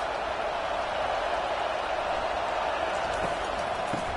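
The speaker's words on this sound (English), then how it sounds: "This crowd trying to make life miserable for this offense." Steady roar of a stadium crowd in a college football video game simulating Alabama versus Western Kentucky, a dense continuous wash of noise held at even loudness throughout without breaks.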